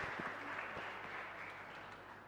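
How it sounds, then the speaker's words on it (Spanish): A church congregation at Mass in a chapel applauds together, a continuous, even patter of many hands clapping, slightly distant and fading gently toward the end. "Son merecedores de un fuerte estímulo con este aplauso."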